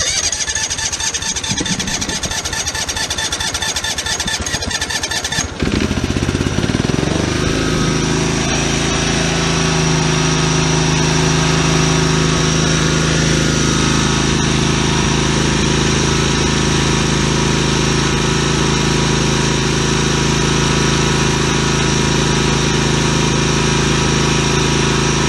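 A Walker riding mower engine runs loudly up close, with a rough change after a few seconds before it settles into a steady, even idle that holds for the rest of the clip with no talk.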